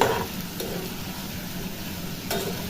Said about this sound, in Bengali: একটু তেলেতে ভালো করে সবজিগুলো ভেজে নেব